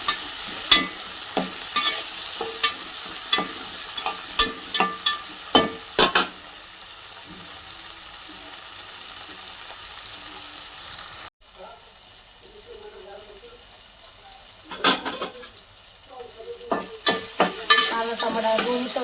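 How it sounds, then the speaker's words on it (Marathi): Tomatoes frying in oil for a keema dish, a steady low sizzle broken by repeated sharp clicks and scrapes of stirring, with a brief pause midway and some talk in the background. "आता टमाटे चांगलं फ्राय करून घ्यायचं"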